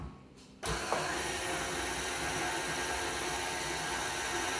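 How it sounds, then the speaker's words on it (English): An electric mixer switches on after a brief quiet moment and runs steadily at a loud, even whir while beating Victoria sponge batter close by. "So, I'm gonna get the mixer back on."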